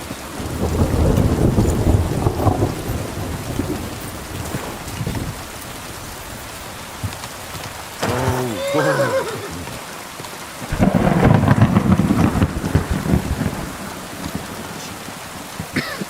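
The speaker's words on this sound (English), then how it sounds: "That was some impressive fork lightning." Thunder rumbling and rain pouring during a storm in Kingdom Come Deliverance 2, heavy low rolls in bursts with a sharp crackling strike midway, loud and close, no talking.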